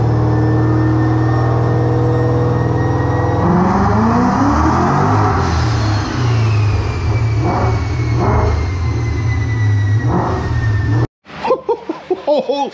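Supercharged Ford Mustang GT on a chassis dyno, a loud engine roaring as it builds through a long steady rev run with rising harmonics, then cutting off abruptly before brief voices react.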